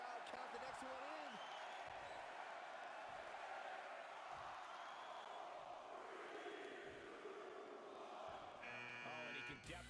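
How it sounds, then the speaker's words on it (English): Arena crowd in the WWE 2K20 wrestling video game chanting and roaring in unison during a Royal Rumble-style elimination match, a dense sustained wall of voices with rhythmic swells and a brief electronic sound near the end. "Listen to this crowd count the next one in."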